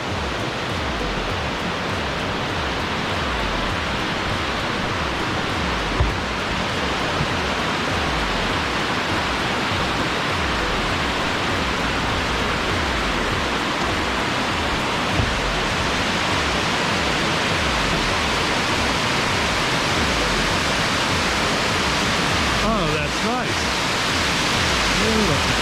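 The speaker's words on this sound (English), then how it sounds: "Here's the steps coming down to the waterfall." A waterfall at Vogel State Park roars in a steady, dense broadband rush that holds constant and loud throughout, heard from nearby with no breaks.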